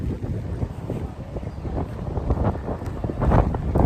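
Strong wind buffets an outdoor gathering during Dashain, a steady loud roar with low rumbling gusts battering the microphone throughout, with no other clear sounds.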